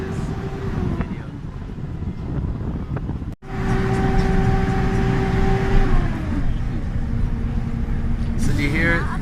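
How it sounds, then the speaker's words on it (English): A bus labours up a gravel mountain road with a struggling engine and a slipping transmission, its steady drone and tonal whine running throughout, overlaid with wind rumble, and a voice talks over it. "You hear it, transmission slipping."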